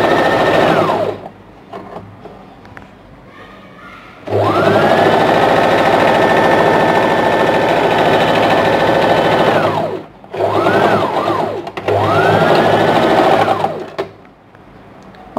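Sewing machine stitching a princess cut blouse: a brief run of stitching, then a long steady whirring run, and two shorter bursts close by, loud and alone.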